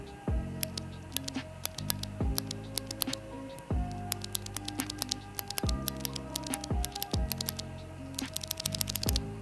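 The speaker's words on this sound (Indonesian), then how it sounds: "Sesuai namanya dia akan mengeluarkan bunyi klik." Clicky blue mechanical keyboard switches typed on in a steady run of sharp, close clicks with short pauses between bursts.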